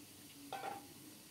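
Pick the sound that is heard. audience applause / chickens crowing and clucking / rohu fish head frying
rohu fish head frying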